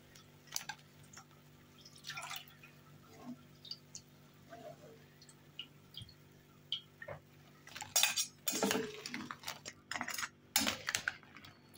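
Fried Syrian awameh dough balls being stirred in syrup with a metal utensil, giving scattered clinks and scrapes against the pot plus wet dripping sounds, busier toward the end.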